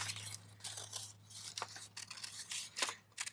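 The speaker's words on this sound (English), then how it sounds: "it's just as simple as cutting those out with scissors" Scissors cutting out paper stencil shapes for mixed media work, a series of quiet, crisp snips and rustling paper strokes close by, irregularly spaced over a few seconds.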